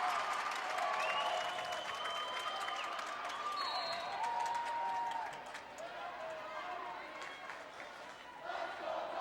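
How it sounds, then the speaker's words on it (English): A volleyball crowd in a gym cheers and applauds after a kill, a loud wash of clapping and shouting with high shoe squeaks that eases slightly toward the end, with a commentator's voice running over it. "you can hear the crowd fire up"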